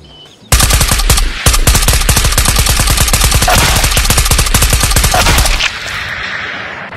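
Loud, rapid automatic gunfire from a weapon in the Ghosts of Tabor VR shooter, fired at enemy players in sustained bursts for about five seconds, close and dominant, with a short pause after the first shots.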